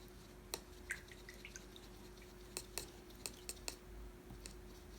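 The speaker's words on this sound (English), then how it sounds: "I'm going to start out by rinsing my brush." A paintbrush is rinsed in a water jar during a watercolor painting session, giving a few faint, scattered drips and soft taps against a quiet background with no talking.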